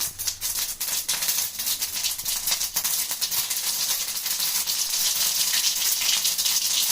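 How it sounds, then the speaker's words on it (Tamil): Mustard seeds splutter and pop in hot oil while tempering dal, a dense, loud crackling sizzle with sharp bursts of popping, heard alone with no talk. "கடுகு பொரியட்டும்"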